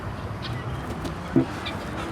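Indian roosters and hens on a farm, soft scattered clucks over a steady low background hum, with one brief louder call near the end and no voices.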